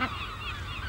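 Gulls circle overhead by the sea, the parent birds calling in harsh, overlapping honking cries that run continuously at moderate distance over a low wind-like rumble.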